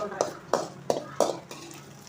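Dried fish, karuvadu, frying in oil in a home kitchen, with four regular stirring scrapes of a utensil against the pan over a low, steady sizzle, close and moderately quiet.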